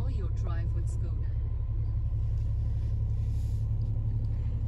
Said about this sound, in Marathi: आपण गाडी कोल्ड स्टार्ट केली आहे पहिल्यांदा